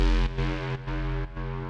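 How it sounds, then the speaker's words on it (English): Growly, acidy filtered synth patch called Estranged on a Multiphonics CV-1 modular, loud sustained distorted tones broken into three held phrases with brief gaps between them. "which had that cool growly, filtery, acidy thing that complements the layers I've got going."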